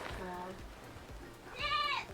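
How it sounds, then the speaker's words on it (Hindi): A goat bleats indoors in a village house, one wavering, fairly loud call near the end after quieter background sounds. "ये आवाज किसकी आ रही है? बकरी भी अंदर है।"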